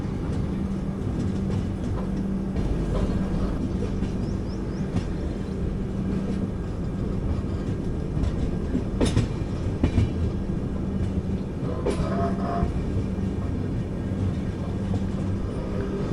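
The Jan Shatabdi Express, heard from inside an AC chair car, rolls out of Tenali Junction with a steady low rumble, occasional wheel clatter and a couple of sharp clanks near the middle.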